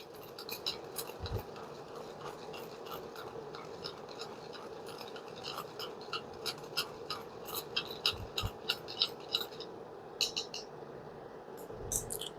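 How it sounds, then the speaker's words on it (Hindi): A spoon stirs cornstarch and a little water into a slurry in a small bowl, making quick, steady scraping clicks. The scraping sits over a constant background hum and picks up in the second half. "इसको अच्छे से मिक्स कर देंगे।"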